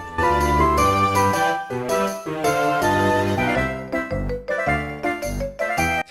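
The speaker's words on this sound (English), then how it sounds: "The second you start walking in the game, the percussion layer can be heard." Route music from Pokemon Black/White 2 with a jingling tambourine percussion layer, a bright melodic game tune playing at steady volume with rhythmic tambourine shakes throughout and no voices.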